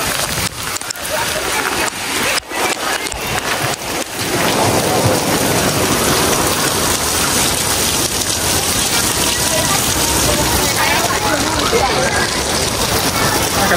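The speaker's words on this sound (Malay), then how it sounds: "Lebat hujan lebat" Heavy rain pours down in a dense, roaring hiss after a few scattered sharp knocks, loud and close, with voices talking underneath, heard from a shop on Mount Jerai, Kedah.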